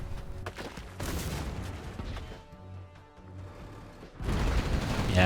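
Cannon fire and battle explosions in the real-time strategy game Generals Evolution, bursts of booming shots layered through a busy mix with a heavier blast near the end.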